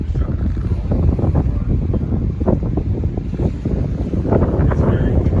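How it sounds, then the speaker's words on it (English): Strong wind buffets the microphone at the historic York Island fort in British Columbia, a loud continuous gusty roar with uneven rumbling bursts throughout. "It's very windy."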